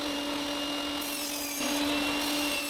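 A table saw cuts 6 mm plywood for a kitchen paper holder, a steady close whine with a hum beneath it that rises into a brief louder rasp as the blade bites, with no talking.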